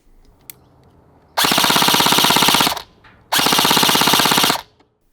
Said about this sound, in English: From there you have full auto, which is how most people use their gel blaster.